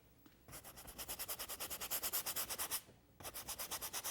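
Light brush scrubbing paint onto a painted fortune cookie, a close, steady rhythmic scratching of quick back-and-forth strokes that runs for a couple of seconds, breaks briefly, then starts again.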